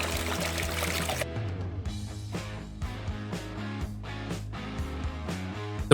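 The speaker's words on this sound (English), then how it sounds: "Water flows perfectly through the pipes and drains safely out into the forest," Water flows through pipes and drains out into a forest beside a home dug into a mountain, heard as a brief rushing pour at the start before steady music takes over.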